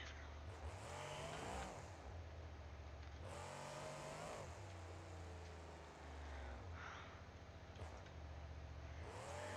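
Monster truck engine revving hard in the BeamNG video game at a Monster Jam semi-finals show, a loud continuous roar that surges and drops in waves as the truck jumps and lands, with no talk over it.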